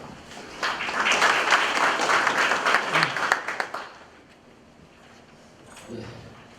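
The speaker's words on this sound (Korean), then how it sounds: "큰 박수로 맞아주시기 바랍니다." Audience at a Korean safety seminar claps to welcome the next presenter: a dense burst of applause for a few seconds that fades out, leaving a quiet room with a faint murmur.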